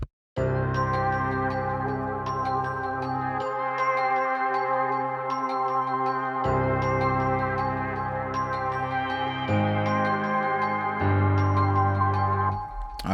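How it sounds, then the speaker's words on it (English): A celesta melody processed with EQ, chorus, delay and reverb in an FL Studio beat plays alone, bright bell-like notes stepping through a repeating pattern with lush echoing tails. "I added one more Celeste to it, and I put a EQ, chorus, delay, reverb, and just one more EQ on it."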